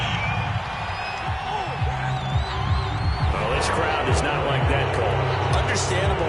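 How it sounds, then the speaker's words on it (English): Stadium crowd in a PS4 football video game reacts to a penalty call, a broad continuous roar of voices and whistles with a dense murmur underneath, steady and fairly loud over the full stretch, with commentary speech running through it. "Oh, this crowd does not like that call."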